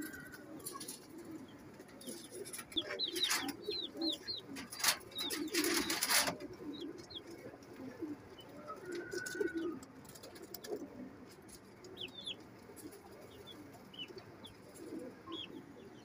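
Pigeons, including a red Lal Pari male, coo in low repeated bursts among other chirping birds, with loud fluttering and rustling bursts around the middle of the clip and no speech.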